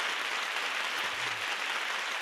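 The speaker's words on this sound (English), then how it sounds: "Can you hear all those people applauding?" Dense, even applause from a small audience, sounding fuller than its size, steady and unbroken with a faint low rumble beneath and no talking.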